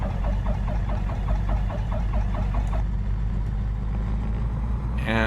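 Twin-engine Carenado Aero Commander Shrike 500S in X-Plane with its left piston engine starting, a steady low rumble under a rhythmic cranking pulse that settles into a continuous idle with a brief click near the end.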